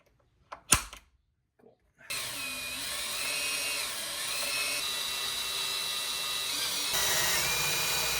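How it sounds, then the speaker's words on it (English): A power drill boring holes for an overhead platform on a Jeep JLU: after a few faint knocks, a steady whining drill runs continuously with slight pitch shifts. "It's always a good idea to center punch your spots before you drill."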